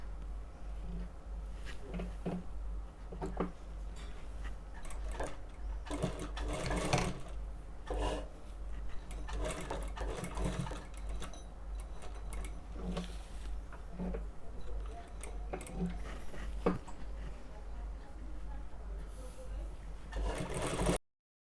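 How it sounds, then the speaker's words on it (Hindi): Sewing machine stitching a women's jacket, quiet and somewhat distant, with a low steady hum and irregular clicking bursts running throughout over a continuous background rumble. "फिर यहाँ पे सिलाई लगानी है।"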